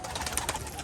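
Rajshahi pigeons, a fancy breed, flutter out of an opened cage, giving a short, close burst of soft bird sound and wing movement under steady background noise.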